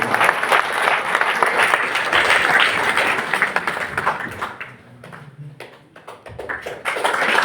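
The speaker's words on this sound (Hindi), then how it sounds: "आप सबकी जोरदार तालियों से।" Audience applause at a college felicitation ceremony honouring an assistant professor of history, dense and steady, then thinning briefly before picking back up.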